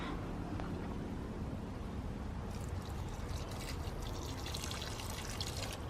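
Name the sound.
watering star jasmine plants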